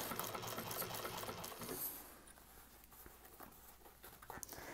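A sewing machine runs in a quick, steady patter as it back stitches and carries on around the seam of a bowler bag, close and fairly quiet, then slows to softer, sparser stitching.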